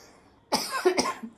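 Two sharp, close coughs triggered by chili pungency while cooking, in quick succession, loud and harsh, with a brief pause between them and no talking.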